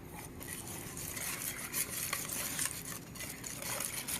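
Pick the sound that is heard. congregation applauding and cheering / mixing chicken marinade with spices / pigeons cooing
mixing chicken marinade with spices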